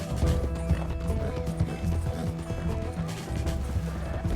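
Horse hooves clip-clop in Red Dead Redemption 2, a rapid steady stream of hoof beats over a dense game soundscape with low rumbling and tonal layers, loud and continuous throughout.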